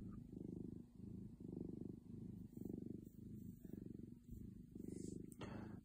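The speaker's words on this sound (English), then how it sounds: "Listen to this purr." A close-up purring from a domestic cat, steady low rhythmic rumble in repeated breath cycles, loud and continuous with a brief faint sound near the end.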